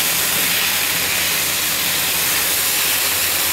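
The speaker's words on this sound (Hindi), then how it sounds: "इसको हम थोड़ा सा फ्राई करेंगे कि चिकन थोड़ा हमारा गल जाए" Chicken frying in a pan for a cheese pasta with white sauce, giving a steady, even sizzle and hiss that carries on unbroken with no talk over it.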